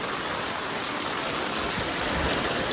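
Steady, loud rushing floodwater from heavy monsoon rain in a Konkan village fills the whole stretch with an unbroken broadband roar, like a swollen stream pouring past nearby.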